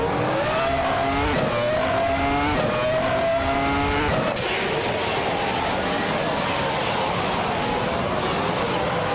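Race cars in a racing video game roar continuously at high revs, with engine notes rising through gear changes, then shifting to a dense, broadband tire and engine rush after a few seconds; loud throughout with a voice running underneath.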